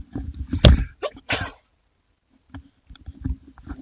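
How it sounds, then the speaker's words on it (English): A person sneezes close to the microphone during a farming game session, one sharp explosive burst followed by a second shorter burst, then quieter breathy sounds and small rustles. "Sneeze, that was a sneeze from last night that never arrived."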